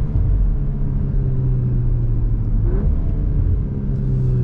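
A Volkswagen Golf R engine in race mode gives a loud, steady, close rumble from inside the car, with a low drone that rises slightly in pitch as it pulls.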